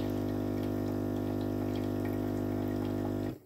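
A Philips 3300 series espresso machine dispensing water gives a steady loud pump hum with running water, continuous and close, then cutting off abruptly at the end.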